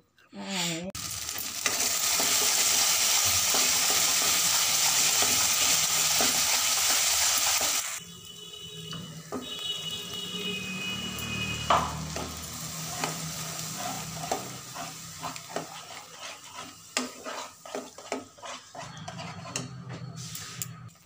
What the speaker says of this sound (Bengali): পরিমাণ মতো লবণ, জিরা পাউডার, ধনে পাউডার আর সামান্য জল দিয়ে মশলাটা ভালো করে কষিয়ে নেব।